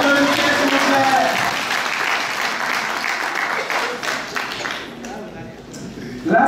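An audience of children and families at a live quiz contest in Paris claps together, a dense, lively round of applause that fades slightly near the end before a brief swell, with some voices mixed in.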